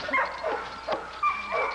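A dog in a kennel yard lets out several short, close barks and yips in quick, uneven bursts.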